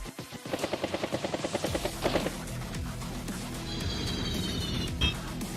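A video game Battlecopter attack in Advance Wars: a rapid rhythmic thudding of rotors or gunfire for about two seconds, then a sustained whooshing roar with a high metallic ring near the end.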